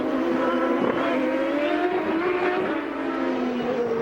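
Will Power's Champ Car races around the 2007 Las Vegas street circuit, its engine screaming at high revs with rising and falling pitch through the gears, loud and continuous with no voices.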